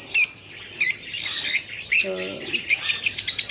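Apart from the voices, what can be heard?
pet cockatiel parrots chirping and squawking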